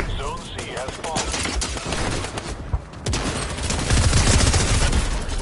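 Shotgun blasts in a Fortnite match, several sharp reports mixed into chaotic game sounds, with voices chattering over the action.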